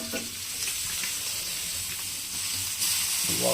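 Fish fries in a pan, a continuous loud sizzle and hiss close by with no voices, rising slightly near the end as the fish is turned.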